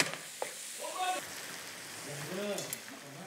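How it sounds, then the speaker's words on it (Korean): Japchae stir-fried in oil in a pot, a soft steady sizzle with scraping stirs underneath, while people talk over it. "이거를 팬이 너무 작으니까 냄비에다 그냥 넣고 그냥 볶아버려"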